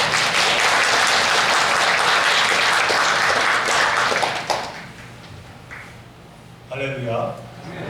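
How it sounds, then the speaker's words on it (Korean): A church congregation applauds during a Sunday worship service, loud dense clapping that fills the room for several seconds and then fades, after which a voice briefly speaks. "우리 박수로 한번 축하합니다."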